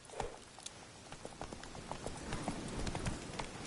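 Hoofbeats of the horse Roach in The Witcher 3 clip-clop in a steady trotting rhythm at moderate distance, continuing over faint background ambience without talk.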